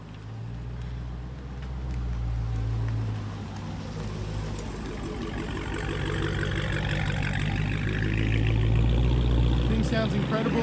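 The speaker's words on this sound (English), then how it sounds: "It sounds like somebody just started up the Hellcat." A Dodge Hellcat V8 with a mid-muffler delete idles with a deep, steady rumble nearby, growing slightly louder toward the end while a person talks over it.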